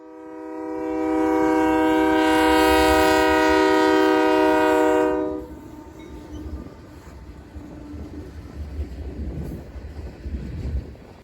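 A freight train passes, its horn blowing a long, loud, steady chord for several seconds before cutting off, leaving the lower rumble and rattle of the rolling cars continuing behind it.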